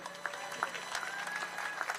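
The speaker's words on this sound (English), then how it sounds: "Please give them a round of applause for all their hard work." Crowd applause at an outdoor Hollywood Walk of Fame star ceremony honoring a baseball great, steady and fairly faint, with a few whistles and cheers over the clapping.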